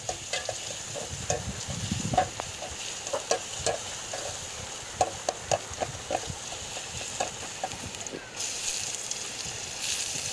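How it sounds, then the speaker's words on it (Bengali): Garlic sizzles steadily in hot oil in a pan, with scattered clicks and scrapes of stirring throughout, close and moderately loud. "রসুন দিয়ে দিলাম, তেলও দিয়ে দিলাম।"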